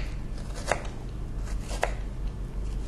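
A knife slices through a strawberry for a fanned garnish: two crisp cuts land about a second apart over a quiet, steady room hum, close and fairly soft, with no one speaking.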